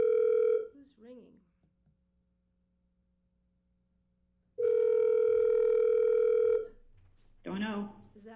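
A desk telephone rings during a public health board community meeting, two long electronic tone bursts separated by a pause, loud and close, with a person talking briefly afterward.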